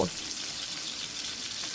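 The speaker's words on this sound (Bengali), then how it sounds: "এখন আমি এটা উল্টিয়ে দিলাম, দিয়ে অপর পিসটাও লাল করে ভেজে নিব" Fish pieces frying in hot oil in a home kitchen, a steady bright hiss and sizzle with no break, a soft clunk at the start as a piece is turned.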